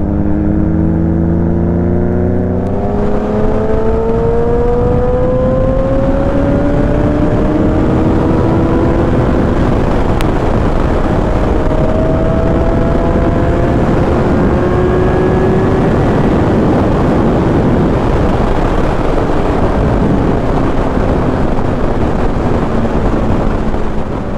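A group of sport motorcycles, a Kawasaki ZX10R, Kawasaki Z900 and Suzuki GSX-S750, roars past loudly in a flyby. Engine whines sweep and shift pitch over a steady wash of wind and road noise.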